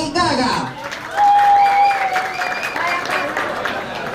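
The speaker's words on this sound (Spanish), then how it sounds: "Que sea fuerte el aplauso para nuestra segunda," Applause from a studio audience at a celebrity impersonation contest semifinal, a dense wash of clapping that rises and holds, mixed with a sustained musical tone and crowd noise.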